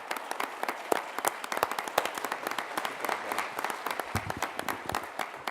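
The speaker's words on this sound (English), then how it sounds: "Let's give him a round of applause." Audience applause at a student business challenge event as a startup founder is called up, a crisp scattered clapping from a modest crowd with distinct individual claps, steady throughout without talk.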